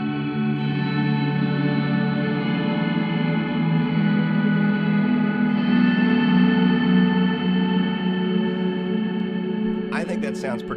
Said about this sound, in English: I actually kind of dug the multi-delay before the reverb